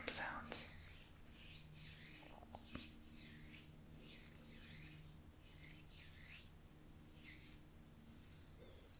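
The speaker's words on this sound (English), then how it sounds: "right now I'm just going to massage your face so I can incorporate some of those skin scrape sounds" Hands massaging a face in an ASMR pampering treatment make soft, rhythmic scraping rubs on skin, close and quiet, repeating in slow strokes with faint background hiss.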